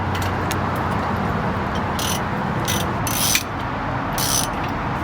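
Nuts being tightened on 2-inch rear wheel spacers of a Toyota Tacoma, a steady mechanical ratcheting buzz running throughout with a few brighter clicking bursts, close and fairly loud, no talk.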